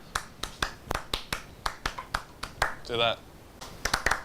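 Hand claps and snaps perform Steve Reich's Clapping Music in a steady, close, sharp rhythmic pattern, briefly interrupted when a voice speaks in the middle.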